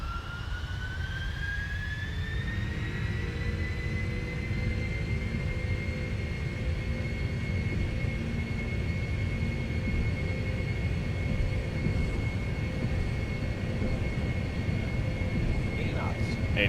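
PMDG 747 jet engines in the Prepar3D flight simulator spool up toward takeoff thrust, a rising turbine whine that climbs then holds steady over a loud continuous roar, with voices heard underneath.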